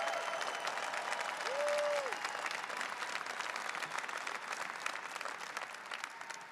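An audience applauds during a Donald Trump speech at the Shale Insight Conference, with steady, fairly distant clapping from a large crowd sustained through the whole stretch and a brief tonal beep near the start.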